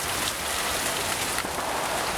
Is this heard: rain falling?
yes